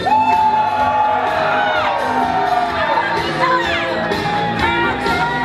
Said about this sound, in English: So if you're a Doomy, let me hear you scream!